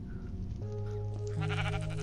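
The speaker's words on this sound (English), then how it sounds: "It's a black sheep." A black sheep bleats in the Minecraft video game, a single wavering, drawn-out bleat heard alone and fairly close.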